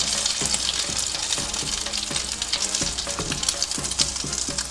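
Flipped eggplant slices frying Macedonian style in hot oil, a loud, dense crackling sizzle close by with scattered pops and light clatters of turning throughout, no talking.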